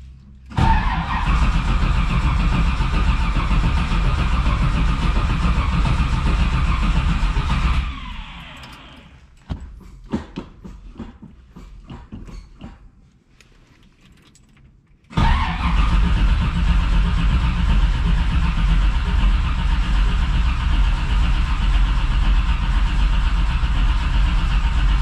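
A 1968 Camaro that has sat unused for a while starts up and runs at a loud, steady idle, cuts out into a few seconds of crackling quiet, then roars back and settles into a strong idle.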